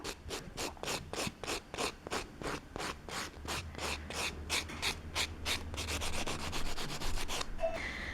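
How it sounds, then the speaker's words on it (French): A pumice stone rubbed over a gel fingernail to smooth it, quick regular scraping strokes, about two per second, close and fairly quiet, with no voice. "venir passer un petit coup de pierre ponce dessus, juste pour le lisser entièrement"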